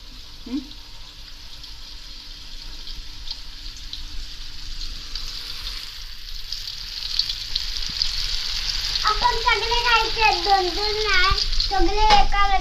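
A slice of jitada fish fries on a tava, giving a soft, steady sizzle close by, while birds chirp brightly in the background during the latter half and occasional faint sounds occur outdoors.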